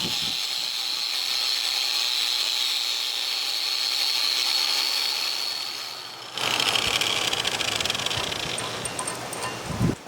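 A steady high-pitched whine of a drill runs for several seconds, then gives way to a harsher, louder grinding buzz as the bit cuts holes into steel angle iron.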